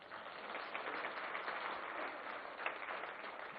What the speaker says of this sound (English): Give you a big round of applause.